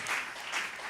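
Church congregation applauding in a steady, dense wash of clapping that swells twice, with no voices rising above it.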